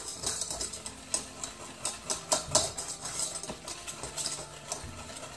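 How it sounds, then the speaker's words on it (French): A utensil stirs almond cake batter with sugar in a bowl, making repeated scraping clinks in an uneven rhythm that is close and moderately loud, with no talking. "Je mélange tout comme ça bien."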